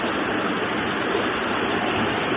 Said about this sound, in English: We finally made it to the waterfall!